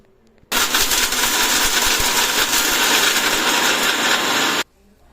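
An electric mixer-grinder blends cinnamon, cloves, ginger, garlic, onion, coconut and green chilli for Tamil-style white fried rice, a loud, steady whirring grind running about four seconds alone, with a sharp start and stop.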